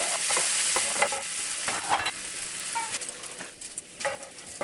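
Bacon fries in a pan with a bright, crackling sizzle, punctuated by a few close scraping and popping clicks as it shifts; no one speaks.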